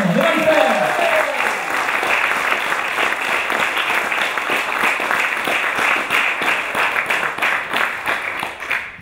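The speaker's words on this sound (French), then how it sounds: "Je vous propose d'applaudir toute l'équipe de l'organisation" An audience at a comedy evening applauds the whole organising team. A brief voice opens it, then steady, full clapping fills the room at a fairly loud level and swells near the end.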